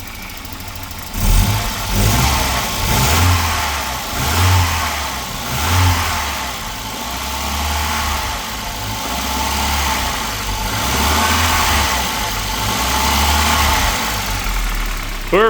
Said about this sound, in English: listen how quiet that engine is. Just with those valve hushers and everything adjusted right, they can run so smoothly